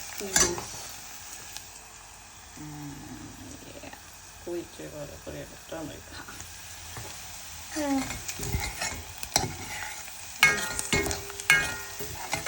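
Green chillies frying in a hot oil tempering for Kokani pithi bhaat, a steady sizzle with occasional stirring scrapes and clinks, while someone talks over it.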